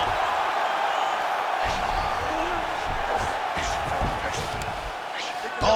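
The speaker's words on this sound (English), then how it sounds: "big pop from the crowd as they get back to their feet" Arena crowd at a Bryce Mitchell vs Jean Silva MMA fight gives a loud, sustained roar of cheering as the fighters rise from a grappling exchange, with scattered whoops and bangs and a commentator's voice over it.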